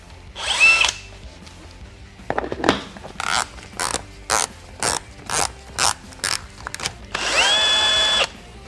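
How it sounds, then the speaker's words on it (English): A power drill spins a plumbing drain snake in a series of short whirring bursts that rise and stop repeatedly, with two longer runs at the start and end, close and loud. "put your drill in reverse, pulls it right back in"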